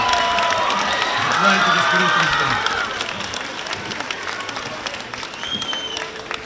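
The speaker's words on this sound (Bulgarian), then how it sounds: "Моля за ваши аплодисменти." A crowd applauds and cheers for Bulgarian President Rumen Radev at an evening public event in Burgas. The clapping is dense and loud for about three seconds under a speaking voice, then thins out.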